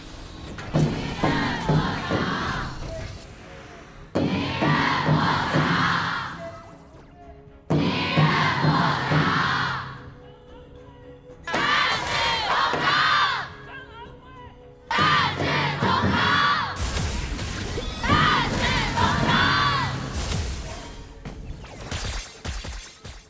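A large arena crowd roars and cheers at the Honor of Kings KPL esports grand final, swelling in loud repeated waves with brief drops between bursts.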